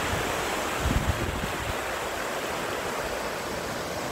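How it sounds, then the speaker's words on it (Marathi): Ocean waves roll onto a beach on the Konkan coast near Harihareshwar, a continuous loud roar of surf mixed with wind buffeting, with a few heavier breaking rumbles early on. "मोठा असं समुद्र आहे माझ्या मागे."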